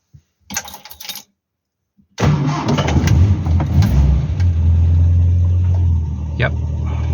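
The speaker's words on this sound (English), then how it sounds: "we'll get this car started up" A Hillman Super Minx car engine cranks over and catches, then settles into a steady, loud, close rumbling idle after a couple of brief quiet bursts beforehand.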